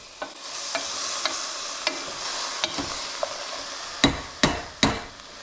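A spoon stirs veal stew with wine in a cooking pot, scraping steadily over a low sizzle. Soft regular taps are followed by three louder knocks against the pot near the end.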